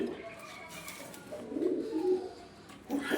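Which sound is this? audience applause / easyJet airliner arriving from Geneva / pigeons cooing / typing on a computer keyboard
pigeons cooing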